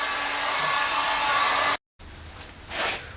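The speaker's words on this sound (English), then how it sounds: "take a heat gun" Loud, steady blowing roar of a heat gun warming thick PVC electrical conduit, running close and continuous, then cutting out briefly before resuming with a shifting, slightly fluctuating whoosh as it moves.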